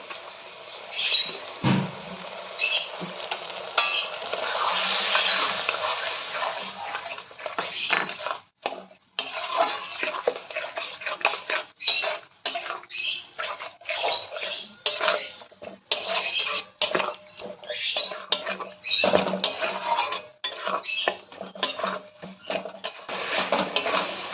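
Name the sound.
sautéing spice paste with water in a pan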